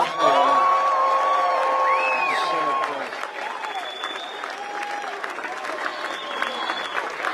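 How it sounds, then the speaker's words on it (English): A political rally crowd outdoors in Williamsburg, Virginia, claps and cheers with whoops and shouts rising above the steady applause, loud at first and then easing off slightly as it continues. "give yourselves another round of applause for being out here"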